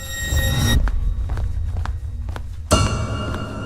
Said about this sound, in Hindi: कमरे के बाहर स्वप्निल को किसी की चलने की आवाज सुनाई दी।